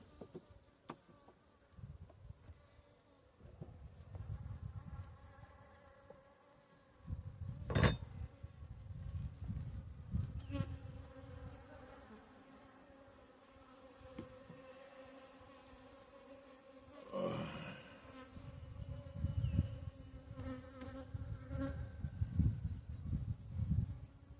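Honey bees buzz steadily inside a crowded, tightly packed hive during a frame inspection, a close continuous drone with shifting hum tones and a few brief louder swells.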